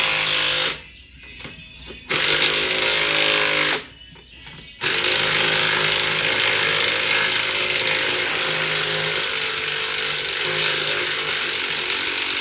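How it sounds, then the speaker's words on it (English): A power tool tightens strut bolts on a 2014 Chevrolet Silverado during a leveling kit install, with a loud sustained whirring rattle cut by two brief pauses and then running steadily up close. "just tighten it up to your strut."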